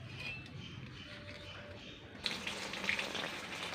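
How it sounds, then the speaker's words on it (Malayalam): Water is poured onto garden plants such as a snake gourd vine and curry leaf, a soft gushing splash that starts partway through and runs steadily to the end over a quiet outdoor background. "വെള്ളം ഒഴിക്കുന്നു."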